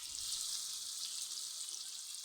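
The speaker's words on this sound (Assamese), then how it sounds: "পিঁয়াজ জলকীয়াখিনি অলপমান ভাজিব দিম" Onion and chili frying in a little oil in a pan give a steady, even hiss of sizzling. It continues unbroken at moderate volume with no voices.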